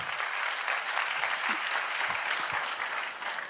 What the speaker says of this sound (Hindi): ताली बनती है ना